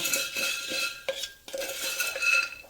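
Popcorn ingredients stirred in a pressure cooker pot, steady close scraping and clinking of a utensil against metal with brief pauses.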